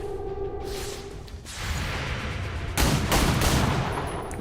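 Video game gunfire: a dense wash of rapid shots, with a sharper, louder volley partway through and steady firing continuing after.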